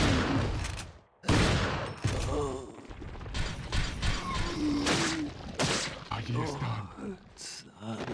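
Shotgun blasts in Resident Evil 4 at a castle entrance, several sharp, loud shots spaced unevenly with mechanical clacks and creaks between them, while a person talks over the action.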